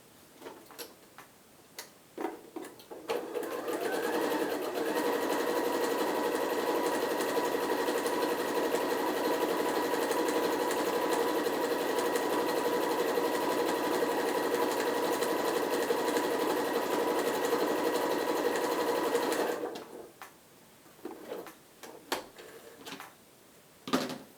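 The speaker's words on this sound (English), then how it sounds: "So I'm going to stitch both pieces together." A sewing machine stitches two fabric face mask pieces together with a 1/4 inch seam allowance, running in one steady, close, rapid whir for about fifteen seconds with soft handling sounds before and after.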